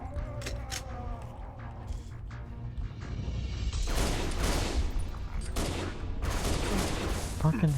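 Rapid gunfire bursts from a carbine in Halo Reach, a flurry of sharp cracks and impacts building in the second half, loud and cluttered with combat noise, with someone talking over the early part.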